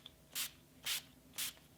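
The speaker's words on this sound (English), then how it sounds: "I'm gonna give it a little shake and just spray that all over the skin." Three short, even bursts of NYX Dewy Finish setting spray hiss onto a face, each about a tenth of a second long and evenly spaced, close and alone in a quiet room.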